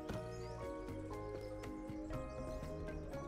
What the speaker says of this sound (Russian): А, во, лошадь скачет.